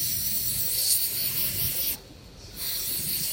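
Brake cleaner sprays from an aerosol can in a loud, steady hiss held close for about two seconds, then briefly stops and resumes.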